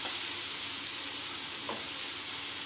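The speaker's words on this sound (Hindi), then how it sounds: "नमक को मिला दीजिए" Salt gets stirred into lauki kofta curry gravy in a pan over a soft, constant sizzle, with a brief faint scrape partway through and no speech.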